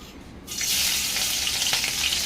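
Chillies and small onions drop into hot oil in a wok, and a loud, bright sizzle bursts up and keeps crackling steadily close by.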